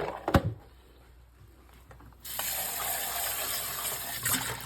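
Running tap water rinses coffee maker parts at a sink: a steady close stream of water that begins partway through after a quieter lead-in with a few handling knocks, continuing to the end with no talk.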